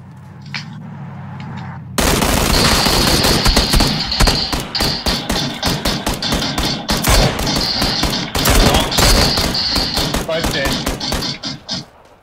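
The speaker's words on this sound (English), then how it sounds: "I shot them in the face with a Mini 14 through the back windscreen" Mini 14 rifle gunfire in PUBG, fired through a vehicle's back windscreen as a loud, rapid string of sharp shots that keeps going for about ten seconds after an abrupt start.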